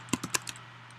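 A computer keyboard gives four or five quick, close keystrokes in a short burst while a line of code is typed.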